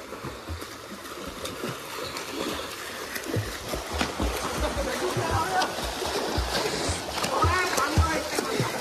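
Someone splashes into an outdoor pool at Safdipur Qila amid loud churning water and repeated splashes, with excited voices shouting and talking throughout.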